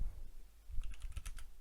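Typing on a computer keyboard, a short run of light, quick key clicks with uneven rhythm that picks up partway through, close and fairly quiet with no talking.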